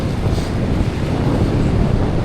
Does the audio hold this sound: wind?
yes